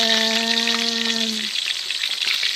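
Tilapia frying in a hot pan of oil: a loud, close, crackling sizzle that runs throughout, with a steady humming tone over it for the first half that then stops.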